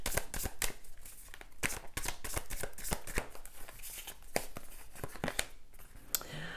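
Tarot cards are laid out and turned over on a table, producing a steady run of soft slaps, flicks and papery rustles at irregular intervals, close and fairly quiet, with no voices.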